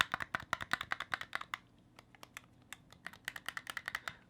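Rapid plastic clicks from Oculus Quest 2 controller triggers come close and quiet in quick bursts, a fast run of clicks, a short pause, then another burst, with no voices.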